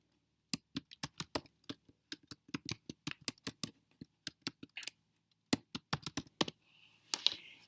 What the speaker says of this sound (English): I'm going to click on Follett Shelf and type in my username